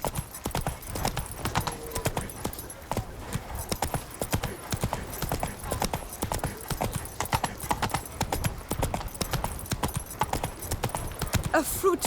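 A horse gallops in The Witcher 3, hooves pounding in a fast, continuous rhythm throughout, close and prominent, with faint game sounds underneath.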